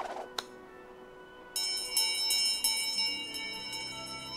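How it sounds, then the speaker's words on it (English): In the video game Visions of Mana a single bell strikes and then a bright, ringing chime swells and sustains with shimmering overtones, loud and clear, with a softer tick earlier. "Oh, that's a heck of a bell."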